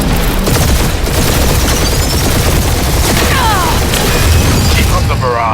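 Heavy weapon barrage in Marvel's Guardians of the Galaxy game, a continuous loud roar of booms and rattling fire with whooshing projectiles, voices talking over the din.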